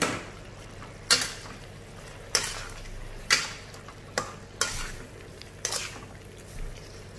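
A beef stir-fry with lime leaves and freshly added tomato slices is stirred in a pan: sharp utensil scrapes come roughly once a second over a soft, constant sizzle.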